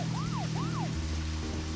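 A police car siren in the Deadly Premonition video game sounds two quick rising-and-falling wails over a steady low engine hum, close and fairly loud.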